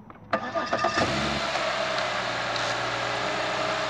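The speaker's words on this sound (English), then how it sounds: "Start the engine again." A car engine cranks with a few quick rhythmic turns, catches and settles into a loud, steady idle close by, with no talking.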